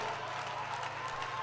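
Audience applause welcoming Amogh Lila Das Prabhu on stage at an ISKCON Navi Mumbai event, a steady wash of clapping that stays even and moderately loud throughout.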